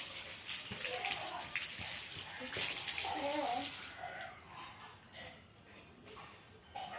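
Water is poured and splashes steadily at close range, with a louder gushing stretch early on and muffled voices faintly in the background.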